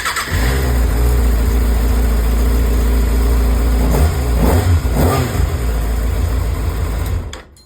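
A 2025 Kawasaki ZX-6R motorcycle engine with stock exhaust idles with a deep, steady rumble, revving up briefly a couple of times before cutting off at the end.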